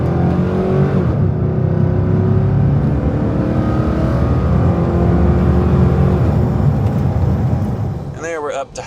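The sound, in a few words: Hummer H2 6.2 V8 engine accelerating to highway speed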